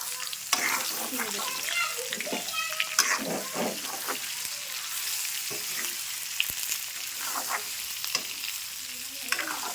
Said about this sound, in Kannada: ಎಣ್ಣೆ ಒಳಗೆ ಹಿಡಿತಾ ಫ್ರೈ ಮಾಡ್ತೀವಿ